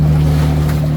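A boat engine drones at sea in the West Philippine Sea, a loud, close, steady low hum mixed with wind and water noise, with no talk.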